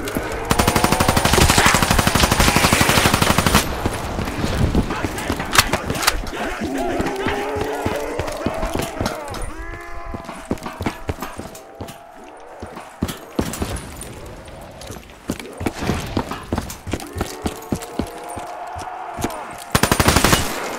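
Automatic guns fire at zombies in Black Ops Zombies, long rapid bursts of close, loud shots broken by pauses and scattered single shots, with game sounds and a voice talking in between.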